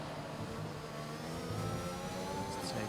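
A Red Bull Formula 1 car in the F1 21 racing game sounds as a steady high-revving engine whine with shifting tones, moderately loud and continuous, with no talking.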